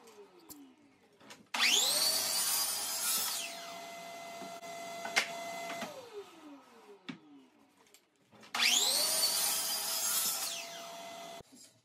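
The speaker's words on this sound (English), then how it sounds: "I'm going to set up a stop block at my miter saw station and cut everything to length" A miter saw cuts wooden boards to length against a stop block: two separate cuts, each with the blade's motor spinning up to a loud high whine, biting through the wood, then winding down between quieter handling noises.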